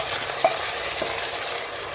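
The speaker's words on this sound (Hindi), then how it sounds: "तो अब हम यहाँ पर इसमें धुला हुआ मटन डाल रहे हैं" Washed mutton sizzles in a pan of frying onions, giving a steady close hiss with a couple of brief clinks from stirring.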